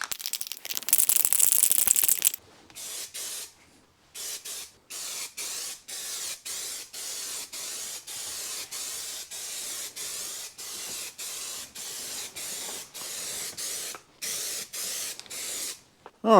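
A spray paint rattle can lays a primer dust coat on rust-repaired rear window channels of a Mercedes W126, in a rapid rattle followed by a long series of short hissing bursts with brief pauses between them.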